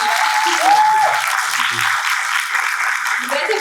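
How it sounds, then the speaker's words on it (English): An audience at a literature festival applauds the author Durjoy Dutta, a close, steady clapping wash that holds for several seconds, with faint murmurs underneath. "Big applause for Durjoy."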